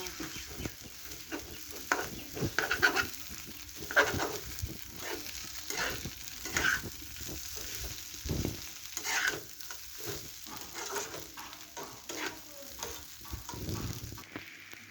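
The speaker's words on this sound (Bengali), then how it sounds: "ভালো করে কষে নেব সব কিছু।" Potatoes and spices frying and being stirred in a pan for a fish head curry, a steady sizzle broken by repeated scraping strokes of a spatula, close and continuous.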